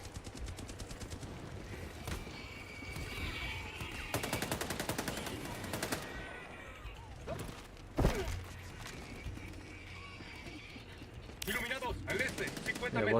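Rapid automatic gunfire from a Helldivers game, with bursts of bullets and sharp shots followed by a loud blast, continuing under steady background game noise as people talk.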